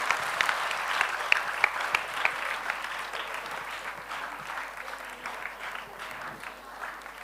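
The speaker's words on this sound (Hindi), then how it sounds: "तालियों में कृपणता मत कीजिए" An audience at a Dev Anand quiz event at JKK in Jaipur keeps up steady, fairly loud applause throughout, with the clapping dense and continuous.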